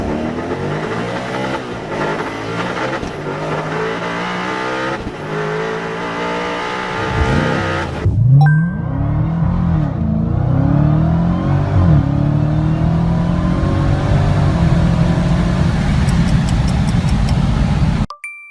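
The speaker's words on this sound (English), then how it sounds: "It's the Dodge Hellcat." A Dodge Hellcat on launch control, a deep supercharged V8 roaring and revving with stepped pitch climbs, then a brief drop and a sustained heavy rumble with wavering revs, loud and near.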